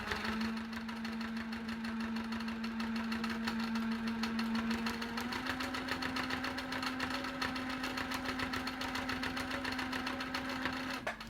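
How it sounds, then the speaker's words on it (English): A Handi Quilter longarm quilting machine running fairly fast while stitching gives a steady mechanical whir with a fast rhythmic needle chatter. It holds close and continuous, with a slight shift in pitch partway through and no speech. "Still have the machine going fairly fast, because if you have the machine going too slow, you end up with big clunky stitches."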